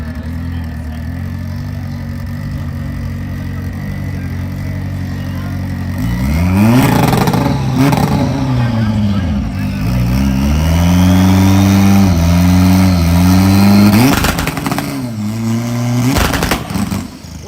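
Mitsubishi four-wheel-drive drag car on front slicks at a hood track, idling with a low rumble before roaring into hard acceleration through rapid gear changes, loud and close, with engine pitch climbing and dropping repeatedly.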